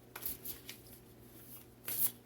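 Quiet riffling of a deck of cards, a couple of short soft shuffling bursts with brief pauses between them.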